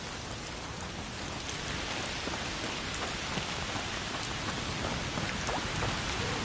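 Steady heavy rain in the A Plague Tale Requiem video game, a dense, even wash of droplets close by with faint scattered patter, continuous and alone without voices.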